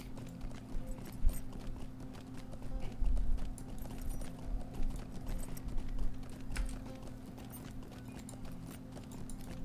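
Steady clip-clop of a whimsical steed's hooves from a Lord of the Rings Online mount, moderately loud and rhythmic over a low game ambience hum, with no talking.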